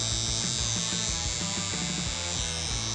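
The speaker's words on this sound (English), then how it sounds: "I'm gonna go ahead and take my trimmer and make a sloppy copy edge line of the actual beard" Electric beard trimmer buzzing steadily and up close as it cuts an edge line along a beard, a continuous motor hum with small shifts in tone as the blades move through hair.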